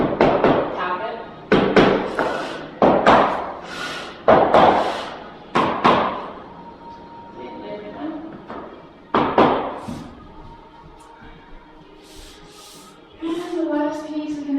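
Laminate flooring planks being tapped into place, a series of sharp, loud knocks in bursts of two or three, with brief talk toward the end.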